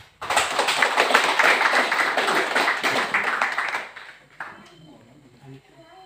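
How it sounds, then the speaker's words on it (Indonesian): Applause at a GIDI church service welcoming new youth members, a loud burst of hand clapping for about four seconds that fades into a quiet room with faint voices. "Tepuk tangan."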